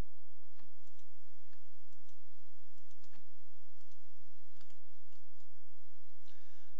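Computer mouse clicking as scanned pages are selected, a scattering of light irregular clicks over a low steady hum, close and fairly quiet with no talk.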